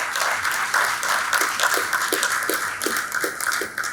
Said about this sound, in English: I think at this point they deserve a round of applause.